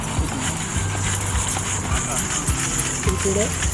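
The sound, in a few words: horse hooves clip-clopping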